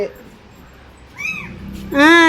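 Kittens meow near a larger cat, a short rising cry followed after a pause by a louder, sustained, strained meow close up.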